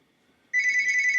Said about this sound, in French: je vais laisser tourner ce téléphone qui me dérange à un moment où je ne voudrais pas être dérangé